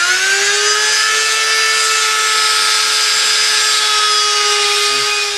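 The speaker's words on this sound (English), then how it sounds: "Now the channels were cut with this small rotary cutting tool here" Small rotary tool with a round-head cutter grinding and smoothing channels in Chinese elm bonsai deadwood, a loud steady high-pitched whine with a constant motor tone and gritty abrasive hiss, unbroken throughout.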